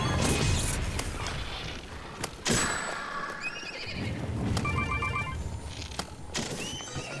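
A horse in The Legend of Zelda: Breath of the Wild neighs and whinnies loudly and close, with hoof clops, clashing impacts and game effects around it, and no talk over it.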